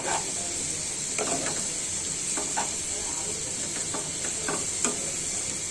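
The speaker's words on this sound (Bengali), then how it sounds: "আলু আর পেঁয়াজটা ভেজে নিচ্ছি মাছের সাথে" Potatoes and onions fry with prawns in a pan, giving a steady, bright sizzle with scattered stirring clinks and scrapes over it; close and moderately loud, with no talk.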